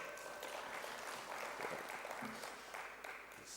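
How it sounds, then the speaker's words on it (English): A large audience at the Fifth World Tamils Economic Conference applauds steadily, a dense, sustained wash of clapping that holds at an even level for the full stretch. "all of you should give him a great round of applause"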